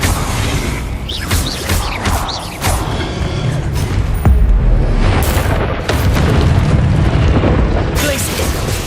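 Booming fiery blasts from the Confringo explosion spell in Hogwarts Legacy, heavy low bursts rolling through a battle amid other spell effects and creaks, loud and continuous, with a voice casting in between.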